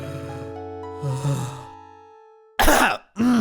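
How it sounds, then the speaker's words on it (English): A video game character in Final Fantasy 7 gives waking-up sounds in the morning at Nibelheim: a low groaning throat noise over quiet music, then two sharp, loud coughs close together near the end. "Morning coughs."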